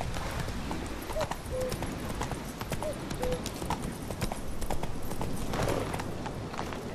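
In The Witcher 3, a horse's hooves clip-clop in a steady gallop under constant game background noise, with faint snorts and a voice speaking at times.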